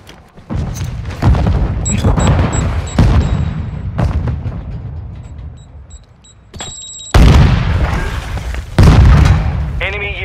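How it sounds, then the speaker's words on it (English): An explosive charge detonating in a search-and-destroy round of a shooter video game: several loud booming blasts and gunshot cracks come in separate bursts, with short beeps and pauses between them. "set a charge on the target and detonate it"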